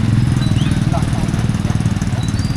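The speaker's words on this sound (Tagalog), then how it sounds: "Chad, dali mo nga motor natin din eh" A motorcycle engine runs at a steady idle close by, with a throbbing, regular low pulse throughout and voices faintly nearby.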